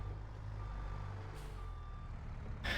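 Merlo telehandler in a farming simulator, a low steady engine drone with intermittent reversing beeps and a short hiss of air brakes near the end.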